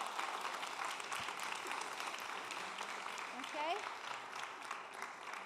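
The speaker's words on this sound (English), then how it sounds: "A big applause." Faint, steady audience clapping at the closing ceremony of the 2018 Climathon climate event, with a voice speaking briefly over it.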